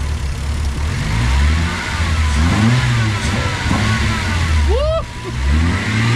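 A Lexus SC300 with fouled spark plugs revs in repeated climbing, roughly stumbling bursts that fail to rise high, loud and close, with people talking and a whoop near the end.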